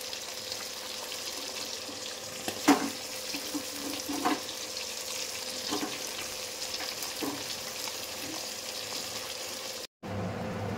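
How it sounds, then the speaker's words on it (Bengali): Pieces of pomfret fish fry in a pan with a steady, close sizzle and soft crackle, a few brief clinks standing out as the oil hisses on. "2-3 মিনিট করে এক একটা পিস ভাজলে একেবারে ভাজা হয়ে যায়, বারবার আর উল্টাতে হয় না, একেবারে লাল লাল করে ভাজা হয়ে যায়।"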